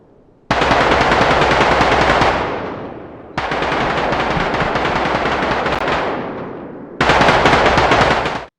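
Medium machine guns in a three-gun weapon squad drill, firing loud sustained bursts in turn, with three long rattling volleys separated by brief gaps.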